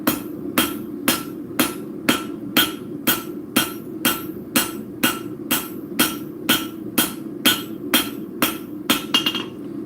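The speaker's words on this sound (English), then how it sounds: "Using the rounded side of my rounding hammer." Rounding hammer strikes hot metal while forging hooks for back plates, ringing out in a steady, evenly spaced series of about twenty sharp, loud blows close by, with no talking.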